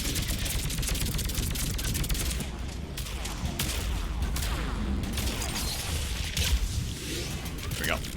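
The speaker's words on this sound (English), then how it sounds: "Let's just sniper rifle this thing down." Gunfire in Mass Effect 3 during the Leviathan DLC, a busy barrage of sharp shots and mechanical clatter from weapons in combat, loud and near, with rapid bursts rather than lone rifle cracks.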